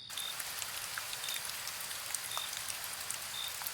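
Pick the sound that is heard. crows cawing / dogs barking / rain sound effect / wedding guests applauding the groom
rain sound effect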